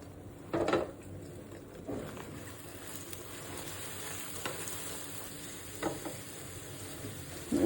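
Egg frying in white oil in a pan with ground pepper and salt, a soft steady sizzle with a few brief louder crackles and utensil taps.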